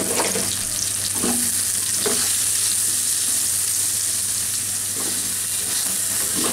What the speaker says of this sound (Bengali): আমি একটা কড়াইয়ে অল্প একটু সরিষার তেল দিয়ে এই বেগুনগুলাকে হাই হিটে ভেজে নিব